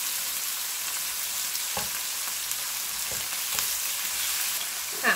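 Fresh shrimp frying in a hot pan and turned onto the other side: a continuous bright sizzle fills the whole stretch, with a few soft thuds as the pieces are flipped, and no voices.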